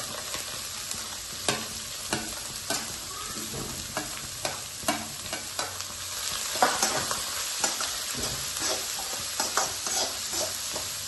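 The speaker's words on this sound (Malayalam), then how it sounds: "സവാളയും ക്യാബേജ് ഇട്ട് കൊടുക്കാം." Onion and cabbage fry in a hot pan, with a steady sizzle broken by repeated close scraping and stirring strokes. No one speaks.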